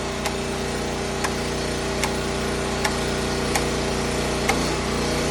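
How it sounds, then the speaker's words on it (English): A Champion generator runs under load, a loud steady engine drone with a faint regular ticking every second or so, heard alone without talk. "You hear the generator kick up?"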